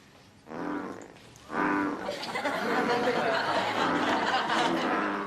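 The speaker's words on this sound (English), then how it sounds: "That's the sound of a toad's mating call." A toad's mating call played back as a recording: loud, rough, sustained croaking that swells in after a brief burst, continuing steadily and filling the room.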